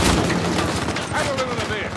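Blind fire from a micro gun in Uncharted 4 multiplayer, a dense, loud burst of rapid shots and booms under excited talking.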